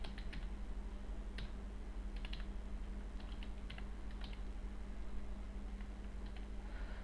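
Close, crisp key clicks as a password is typed on a computer keyboard during sign-up, coming in short irregular bursts over a steady low hum.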